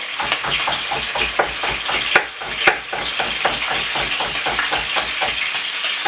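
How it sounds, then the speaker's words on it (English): Saltfish fries in a pan on a low stove, a constant sizzle broken by rhythmic scraping and stirring strokes plus a couple of sharper knocks against the pan. "I'm gonna simply put a handful of the saltfish in this to go and fry in the meantime."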